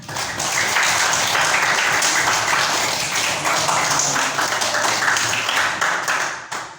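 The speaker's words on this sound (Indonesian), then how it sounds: "Tepuk tangan." Students applauding in a madrasah classroom, a full, continuous round of clapping from many hands, close and steady throughout before fading at the end.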